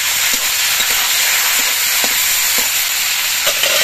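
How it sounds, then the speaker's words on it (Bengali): Broccoli fries in hot oil with a steady, close hiss, and faint stirring clicks and taps sound now and then. Nobody speaks. "এবার এই তেলের মধ্যে দিয়ে আমি ব্রকলিগুলো ভেজে নিচ্ছি।"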